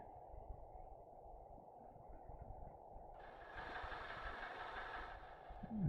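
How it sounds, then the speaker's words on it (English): A warship's engines on a submarine hydrophone in Silent Hunter 4 produce a continuous low, rhythmic churning rumble, with a brighter whirring layer swelling in midway and then fading. "Another one of the warships."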